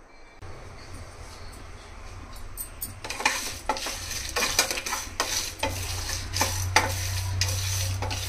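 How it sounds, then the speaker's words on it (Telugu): Mace and dried red chilli pieces dry-roasted in a pan: scraping stirs and light rattling against the metal over a low hum. The stirring grows busier partway through, with no talking. "ఇవి కొంచెం డ్రై రోస్ట్ చేసుకుని పొడి మసాలా చేసుకోవాలి."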